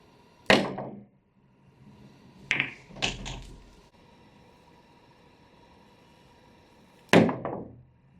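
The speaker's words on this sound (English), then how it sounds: "make sure you hit it with enough left spin, and here's the shot" A cue strikes the cue ball with left spin on a pool table, giving a sharp click, then a cluster of knocks and ball clacks, and another sharp clack near the end, all against a quiet room.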